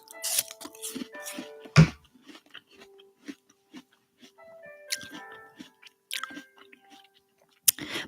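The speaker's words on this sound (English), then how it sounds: "Apple ASMR." An apple bitten and chewed close to the microphone in ASMR style, a loud crisp crunch of a bite followed by wet crunching chews, with a few more sharp bites later.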